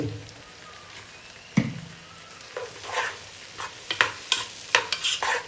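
Jackfruit being sautéed in a pan over a high flame, with scattered stirring scrapes and clicks and a soft frying sizzle growing busier toward the end, close and moderately loud, no talking.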